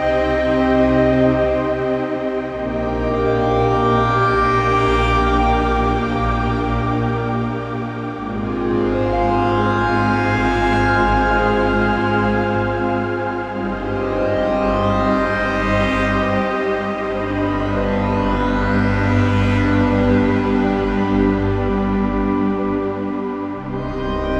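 A lush, sustained synth pad built in Bitwig's Grid, with long echoing delay repeats and a wide wash of reverb, swelling and shifting slowly; loud and steady throughout.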